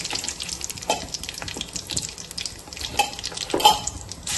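Dried red chilies and panch phoron spices sizzle in hot oil in a pan, a light crackling fry with brief stirring clatters, close and fairly quiet.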